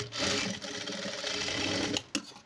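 A sewing machine stitches a churidar loose pant, running in a steady continuous whir for about two seconds, then stopping with a couple of brief mechanical clicks and knocks.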